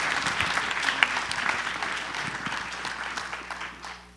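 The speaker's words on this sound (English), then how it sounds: "I think that we owe him a big round of applause and thank you" Members at an annual church business meeting applaud with thanks, a crowd clapping steadily and fairly close, then tapering off toward the end.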